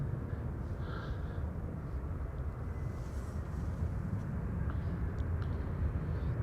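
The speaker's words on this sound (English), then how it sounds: "And here the second consecutive A350." An Airbus A350 airliner arriving at Amsterdam Schiphol Airport produces a steady, broad jet roar that holds level throughout, a distant continuous rumble with no voices over it.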